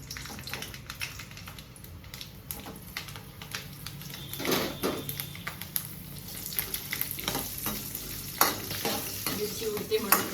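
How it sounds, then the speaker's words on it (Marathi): Chillies sizzle and fry in hot oil in a home kitchen while an ambadi chutney is being made, with a steady low crackle and occasional stirring scrapes. No one speaks. "आता मिरची तळून घ्यायची."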